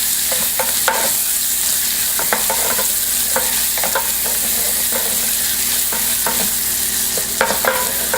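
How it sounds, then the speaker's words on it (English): Onion sweats in rendered bacon fat over low heat, giving a close, steady frying sizzle with regular stirring scrapes and knocks throughout. "So just all you're doing here is sweating out your onion."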